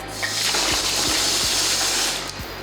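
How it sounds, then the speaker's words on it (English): Water gushes steadily from a garden hose into a car wash bucket, a continuous loud rushing fill with a few low knocks, for hand-washing a Lexus LFA. "put a little bit of water in there"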